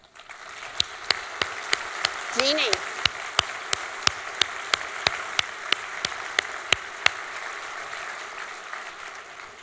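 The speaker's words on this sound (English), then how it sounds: "give a very rousing round of applause to a very special staff member" A conference audience at a national mental health programs council meeting gives sustained, even applause, a dense wash of clapping lasting the whole stretch, with a voice briefly heard over it.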